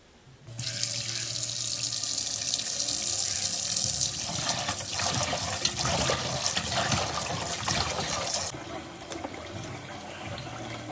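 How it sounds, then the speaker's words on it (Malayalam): Chicken pieces are washed under a running kitchen tap, a steady splashing gush of water into a sink that starts abruptly, continues with shifting splashes as the pieces are handled, then eases to a lighter trickle. "ചിക്കൻ നന്നായിട്ട് ചെറുതാക്കിയിട്ട് കട്ട് ചെയ്യാം എന്നിട്ട് നന്നായിട്ട് വാഷ് ചെയ്തെടുക്കാം"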